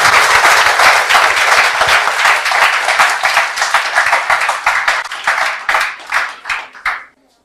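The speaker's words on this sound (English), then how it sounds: "please welcome her with a good round of applause." Applause from the audience at a UPSC topper's talk: dense, loud clapping from a crowd that carries steadily, then thins into scattered claps and fades out near the end.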